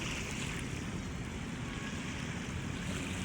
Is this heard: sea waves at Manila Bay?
yes